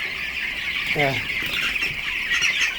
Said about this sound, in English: we'll go over and look at the birds in the brooder now.